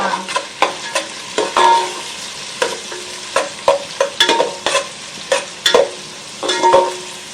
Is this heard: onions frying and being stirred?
yes